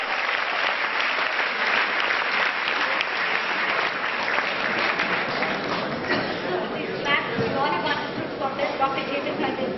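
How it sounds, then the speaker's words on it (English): Audience at a medical students' conference applauding a gastroenterologist as he is introduced: dense, continuous clapping from a crowd filling the whole stretch, with some background chatter underneath. "A big round of applause for him."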